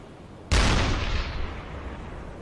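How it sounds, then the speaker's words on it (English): A single loud gunshot blast from a naval gun in the submarine game UBOAT, hitting sharply and then rolling off into a long, fading boom over roughly two seconds, heard alone. "What's he shooting at?"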